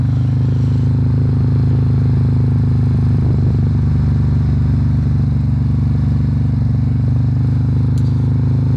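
Harley-Davidson Road Glide Special with a 131 engine cruising, its deep, steady engine drone running continuously and loud alongside road and wind noise, with no talk over it.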